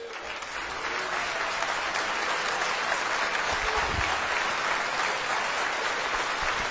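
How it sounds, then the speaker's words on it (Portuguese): A church congregation claps together in sustained, dense applause, steady and fairly loud throughout with no break, and no speech over it. "Vamos aplaudir ao Senhor Jesus por cada vida que está se decidindo"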